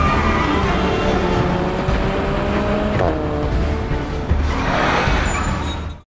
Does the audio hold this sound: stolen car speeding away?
yes